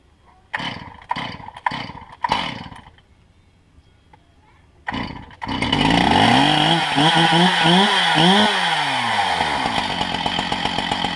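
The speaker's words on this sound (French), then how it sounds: "Donc je vais découper à 3 mètres." A chainsaw cutting a log into boards, preceded by several short revving bursts and a pause, then a long loud continuous cut with the engine pitch rising and falling under load, close by.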